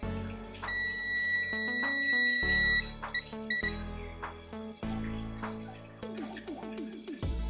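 An electronic buzzer on a circuit board under test sounds a series of sharp, tonal beeps at shifting pitches, close and clear, starting and stopping in short bursts.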